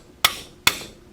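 A Picard hammer striking a workbench vise, three sharp loud knocks evenly spaced about half a second apart, each ringing briefly, close and alone.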